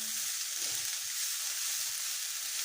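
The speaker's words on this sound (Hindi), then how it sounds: "सिर्फ हमने इसको जस्ट 2 से 3 मिनट इसको हम सिर्फ फ्राई करेंगे, ताकि इसका जो क्रिस्पीपन है वो इसमें रहे" Chicken and vegetables frying in a pan for a sandwich filling, a dense, steady sizzle that runs evenly and loudly throughout with no talking.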